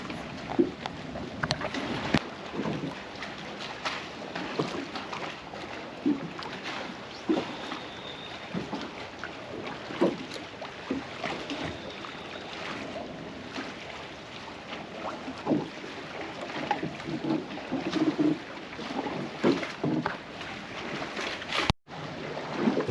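Wind blowing across the water beside large waterfront docks, a steady broadband rush with gusty swells and small bumps throughout, with no one talking.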